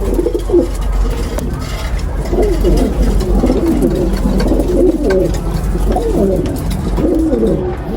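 Young pigeons cooing in a loft: repeated soft, throaty rolling coos from several birds overlapping, close and continuous over a steady low background rumble.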